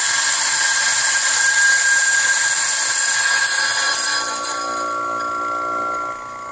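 A Eureka coffee grinder grinds an 18-gram single dose of beans, giving a steady, loud high-pitched whine that holds for several seconds, then drops to a lower level and cuts off near the end.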